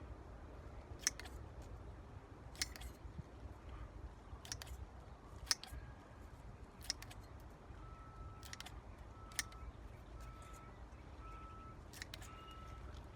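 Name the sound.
scissors cutting acerola cherry cuttings in half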